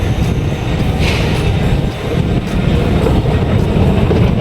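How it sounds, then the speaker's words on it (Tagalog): Train at an MRT station rumbling loudly and steadily throughout, with a continuous rail roar and faint wheel clatter, no talking. "ito pala ang MRT station"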